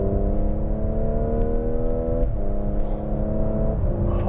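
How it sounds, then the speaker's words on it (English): A 2017 Audi SQ5 under full throttle rises in a rising engine drone, with brief exhaust pops and dips at each gear shift, two shifts heard in quick succession, loud and close without talk. "you get this amazing little exhaust note in between shifts when you really floor it"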